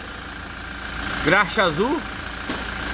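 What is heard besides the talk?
Toyota Hilux engine idling while warming up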